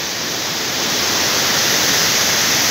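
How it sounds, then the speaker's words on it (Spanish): A large river rushes near the Machay waterfall in Baños, Ecuador, a loud, dense, continuous roar of water that stays steady throughout with no voices. "El río grande está acá."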